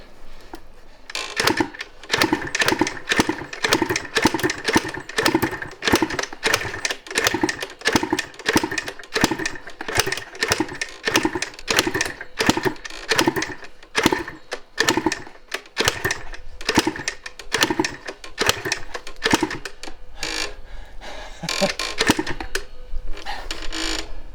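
A motorcycle engine, its cylinder recently dosed with oil, is kicked over repeatedly and sputters while trying to run, making a dense string of close, sharp, clattering strokes for over twenty seconds with no talking.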